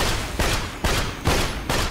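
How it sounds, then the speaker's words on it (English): Gunfire in the game Borderlands: The Pre-Sequel as enemies shoot at a guidance system, with loud close bursts of shots repeating in a rough, regular rhythm. "they're shooting the guidance system"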